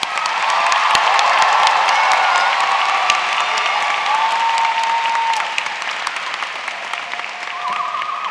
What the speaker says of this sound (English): Please join us in applauding these Meadowbrook scholars.